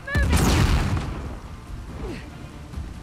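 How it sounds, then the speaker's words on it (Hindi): Gunfire and explosive bursts in the action game Uncharted: The Lost Legacy during a rainy infiltration chapter, a loud booming blast up front that fades into a rumbling wash of distant shots, with a voice speaking over it. "अरे भागो भाई, गोलियां पड़ रही हैं।"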